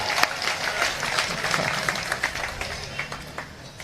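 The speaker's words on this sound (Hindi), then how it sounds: "अब आपकी तालियां उठेंगी" Audience applause at a Hindi satire performance, a steady wash of many hands clapping with scattered sharper claps, moderately loud and continuous.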